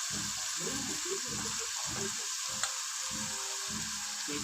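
Rice frying in a pan, a steady close sizzle with rhythmic pulses of stirring or scraping roughly twice per second, alone without talk.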